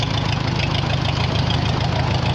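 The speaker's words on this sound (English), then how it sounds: "You can hear it kind of sounds more like it's a Johnny Popper than a 4-cylinder, and that is because it is only running on 2 cylinders" A 1944 Farmall H tractor idles on only two of its four cylinders, with cylinders 2 and 4 dead, giving a loud, close, rough, uneven chugging that carries on without a break.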